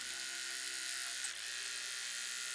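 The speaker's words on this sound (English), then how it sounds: "that's how you're going to sew that. Just laying the seams down where they belong." A sewing machine stitching quilt block seams runs as a steady, continuous high-pitched motor whir at close range, with no pauses, over about three seconds.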